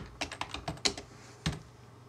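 Quiet, close keystrokes on a Mac computer keyboard while working in Sibelius notation software: a quick burst of about six taps, a short pause, then one more press.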